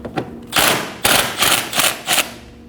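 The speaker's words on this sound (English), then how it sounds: "Go ahead and take those out using a 12mm socket." A 12mm socket ratchets out the bolts holding the intake plenum on a 2011-2016 Kia Optima, close up, in several quick bursts of rapid clicking separated by short pauses.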